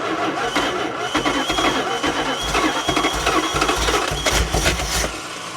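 A 1977 second-generation Dodge van engine runs rough after sitting for twenty years, its timing far off, with a loud steady rumble and uneven pulses throughout and no talking.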